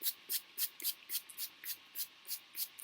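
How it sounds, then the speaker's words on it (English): A hair detangler spray bottle pumped in quick succession, about eleven sharp, close misty bursts at an even rhythm, alone with no talking. "Spray it everywhere."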